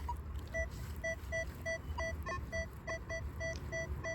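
A metal detector sounds a repeated electronic target tone, short evenly spaced beeps at two pitches over a faint outdoor background on an old property.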